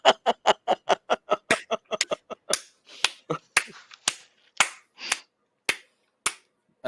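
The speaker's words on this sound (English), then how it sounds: "The slow clap." A single pair of hands claps in a sharp, close series, quick at first and then spacing out into slower, irregular claps, with faint murmuring and laughter in between.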